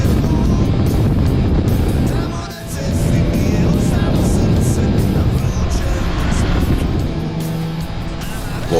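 A BMW K1600 GTL motorcycle cruises along a quiet country road between fields and villages. Its engine hums steadily and loudly, with wind rush throughout, and briefly dips for a moment before carrying on.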